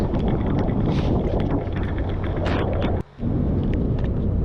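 A touring motorbike ploughs through flooded road water in heavy rain, a loud continuous rushing wash and spray with wind buffeting the microphone and a brief dropout partway through.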